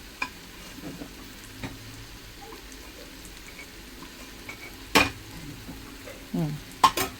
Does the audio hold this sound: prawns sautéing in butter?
yes